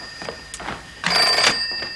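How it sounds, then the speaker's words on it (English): A telephone bell rings in a short burst about midway, a bright sustained trill that stands out over quieter voices and room noise before and around it. "The phone. The phone."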